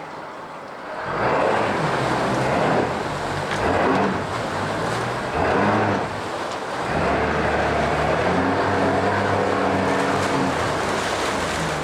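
A 2013 Yamaha 115hp extra-long shaft outboard motor runs steadily in a test tank, its drone rising and falling as the throttle shifts, with churning water underneath.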